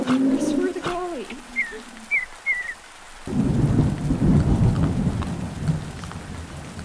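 Rain and thunder fill an arctic husky video game, with a few high game sounds and a rumble early on, then steady heavy rainfall with deep thunder rolling beneath for the rest.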